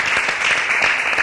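Church congregation clapping together during a sermon, a short, loud, dense burst of applause close by, with no voices over it.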